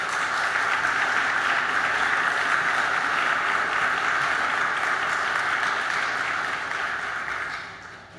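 Sustained applause from the audience at the Transatlantic Summit IV in Budapest, a dense even wash of clapping that holds steady for several seconds and then thins and fades near the end.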